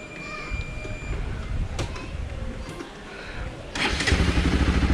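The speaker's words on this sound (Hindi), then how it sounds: "बाइक स्टार्ट तो हो रही है।" A Bajaj Pulsar RS 200 motorcycle, dirty after sitting unused for a week and with front-end problems, is cranked and its engine catches, settling into a close, steady idle rumble.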